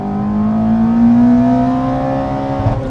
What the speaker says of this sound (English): Should we hear that VTEC one more time?